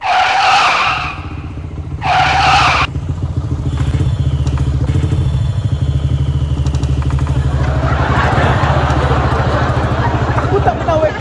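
A VF3i motorcycle rides with a steady, loud engine drone and rising road noise. Short bursts of speech come early, over the engine.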